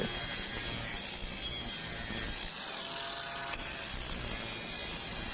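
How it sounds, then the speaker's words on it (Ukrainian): A continuous harsh grinding roar of a RONI brushless angle grinder cleaning and grinding metal, loud and close, without pause. "шліфувати та зачищати метал. Це болгарка вміє на 10 з 10."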